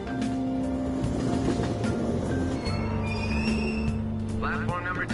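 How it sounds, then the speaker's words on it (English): In Persona 5 Royal, a train on a Tokyo subway line closes its doors and pulls out of the station with a steady rumble and faint wheel squeal, under announcement voices. "The train doors are now closing."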